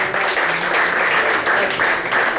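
Congregation applauding in a church service, a dense steady wash of clapping from many people that swells slightly in waves.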